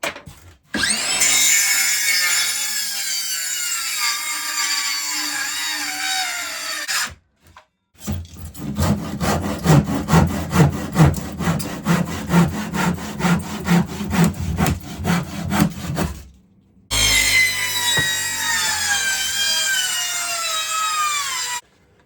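Makita DSS611 cordless circular saw cutting wood in a workshop: a loud, close whining cut, a pause, a long grinding pass with rapid rhythmic chatter, then another brief whining cut.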